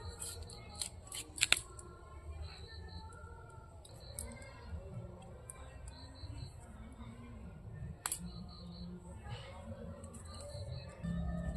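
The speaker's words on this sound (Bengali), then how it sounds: "ফুলকপিটা খুবই বড় এর থেকে আমি অল্প কিছু নেব কেটে কেটে দেখাচ্ছি" A large cauliflower being cut into small pieces with a knife in a home kitchen, giving faint, scattered crisp snaps and clicks of separating florets amid quiet background noise.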